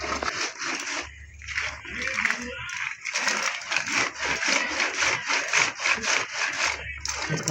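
Small rugda (phutka) mushrooms are scrubbed by hand with a little water, giving close, rhythmic rough rubbing strokes with light gritty scraping and occasional wet splashes.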